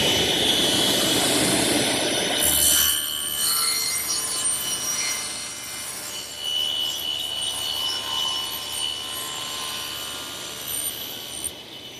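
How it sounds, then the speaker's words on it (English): A table saw with its blade tilted to 45 degrees makes miter cuts through wood for a bookcase, a loud whining motor roar that rises as the blade bites and settles into a steady hum. "I'll come back to my saw, adjust the blade to 45 degrees for the miter cuts, and then we're ready to make the pass."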